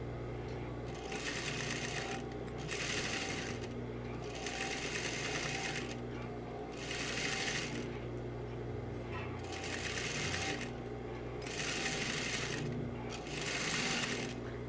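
Sewing machine stitching the seam that joins a tulle skirt to its base fabric, running in steady bursts of rapid mechanical whirring with short pauses between runs, close and fairly loud.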